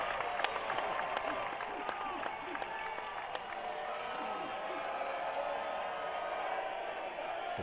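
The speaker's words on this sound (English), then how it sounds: "The crowd making their noise." Crowd at an NCAA Division I college tennis super regional applauding and cheering steadily around match point, with sustained clapping, scattered whoops and a commentator's voice faintly beneath.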